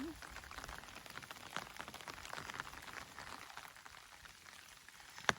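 Soft, irregular pattering of rain drumming on a hiking umbrella along the Appalachian Trail, close and fairly quiet, with a sharper drip near the end.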